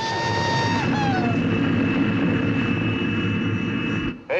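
Loud, steady drone of an airplane engine in Dr. Strangelove, a sustained close roar with whining tones that dip in pitch early on, running unbroken until it cuts out near the end.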